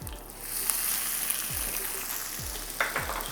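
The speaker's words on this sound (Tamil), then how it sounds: "4 வெங்காயத்தை நல்லா பொடியாக நறுக்கி சேர்த்துக்கிறேன்." Chopped onions crackle and sizzle steadily in hot oil, with a few soft stirring knocks against the pan; no one speaks.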